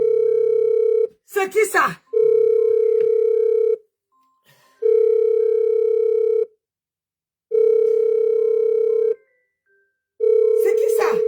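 An incoming call rings on a telephone as a steady electronic tone in four or five long, evenly spaced bursts with silent gaps, while voices speak briefly between the rings.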